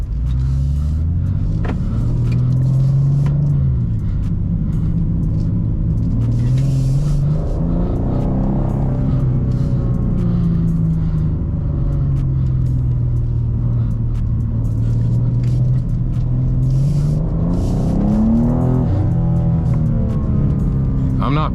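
A BMW M2 engine drones and rumbles from inside the car on a test drive, its pitch swelling and dropping repeatedly as the throttle is worked, loud and continuous throughout.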